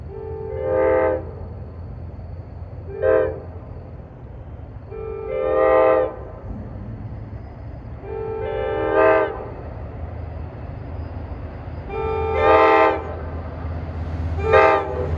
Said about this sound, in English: Babylon Patchogue with DE30AC 401. It's got a K5 LA horn.